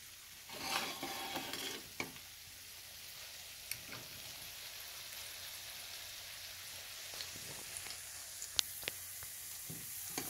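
Garlic frying in oil until golden produces a steady, close sizzle, with sharp scraping and stirring clicks scattered throughout. No one talks.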